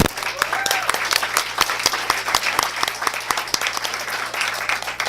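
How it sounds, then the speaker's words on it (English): Meeting audience at a Calexico Unified School District gathering applauds steadily, a dense wash of many hands clapping without pause at moderate loudness throughout. "Let's give a big applause for that."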